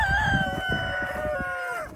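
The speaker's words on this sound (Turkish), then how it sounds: "Yine horozum." A rooster crows once in a long, loud, drawn-out call that fades at the end, close to the listener, with other farm fowl clucking faintly underneath.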